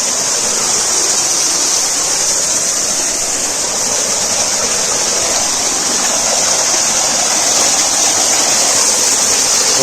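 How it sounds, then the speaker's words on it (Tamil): Water pours down the Courtallam waterfall in a loud, steady, hissing rush that continues unbroken throughout, with no voices over it. "ஓகே, இதை தெரிஞ்சு பார்த்தீங்களா, இதுதான் ஃபால்ஸு."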